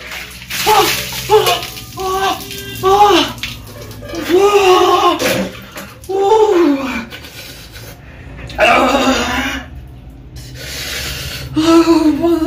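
Water poured out in splashing bursts during a duct-tape escape challenge, with voices calling and shouting loudly over and between the pours.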